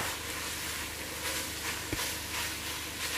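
Potatoes and minced meat frying in a pan, a steady broadband sizzle and hiss with a faint knock near the middle, no talking.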